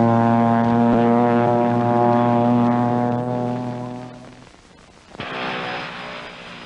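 A Pilatus Porter turboprop STOL aircraft drones with a loud, steady engine tone and strong harmonics. The note drops away midway, then a rushing roar returns near the end.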